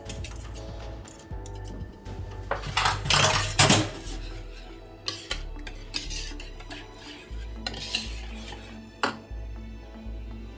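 Cabbage coleslaw being mixed in a bowl, a series of close clinks, knocks and scrapes of utensils against the dish with short pauses between, no talking.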